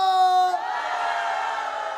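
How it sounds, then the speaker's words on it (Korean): A studio audience of mothers at a Korean TV sing-along class shouts together on cue, a broad, sustained roar of voices following a brief held vocal tone. "오늘 신나게 파티 즐기실 분들만 소리 질러!"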